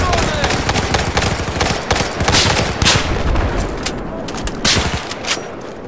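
Dense, continuous gunfire from a Battlefield 4 multiplayer match on the Hangar 21 map, with rapid rifle bursts, overlapping shots and booms sounding close and loud throughout, no pauses.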